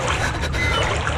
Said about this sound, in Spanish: se escuchó como si alguien caminara en el agua